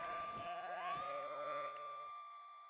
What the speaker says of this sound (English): The sheep! I hate the sheep.